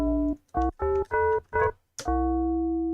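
A synthesizer plays a bell-like patch: five short, clean tonal notes in quick succession, then a click and one longer note that rings on and slowly fades.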